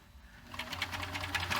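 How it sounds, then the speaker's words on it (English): A serger sewing machine runs a scrap piece of material, its steady rapid stitching hum rising after a quiet start and continuing close and alone. "always run a scrap piece of material through your machine, whether it's a serger or just a regular sewing machine"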